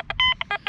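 Quest X10 PRO metal detector beeps over a 20-grosz coin, a quick series of short electronic tones, some wavering, close and clear with no talk.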